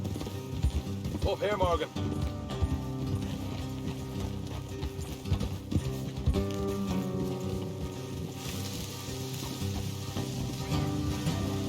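Horses' hooves clip-clop in a video game as riders travel off-road, steady rhythmic hoofbeats under game music and dialogue, with a character speaking over them.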